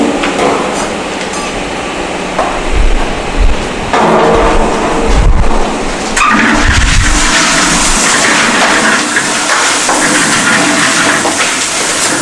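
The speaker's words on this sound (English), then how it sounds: "we are going to add the coarse aggregate to the concrete mixer" A concrete mixer drum churns steadily as coarse aggregate is tipped in for a compaction factor test, a continuous loud rumbling and grinding wash with heavier clattering surges throughout, no voices.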